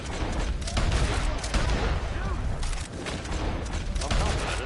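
Gunfire in the video game Red Dead Online, rapid overlapping shots and a loud, dense barrage that continues almost without a break, with a voice talking over the shooting.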